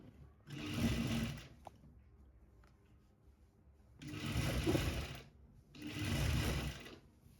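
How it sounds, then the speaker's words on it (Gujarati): Sewing machine stitching a fancy sharara top, running in three separate bursts of steady whirring with short quiet gaps between them, close and clear with no talking. "તો હવે આપણે અહીંયા સરસ રીતે સિલાઈમાં લગાવી દઈશું"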